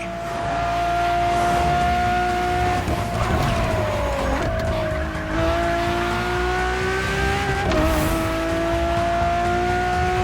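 Ferrari engine in the racing game The Crew Motorfest, a steady loud drone that shifts pitch as the revs rise and fall, with no talk over it.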